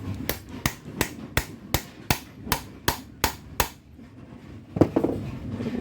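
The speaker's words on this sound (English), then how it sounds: "I'm going to use the other one to keep hammering this guy on." A hammer strikes repeatedly to drive a shaft collar onto a front roller shaft, roughly eleven evenly spaced, crisp metal-on-metal blows up close, then a pause and a single heavier knock with some rattling.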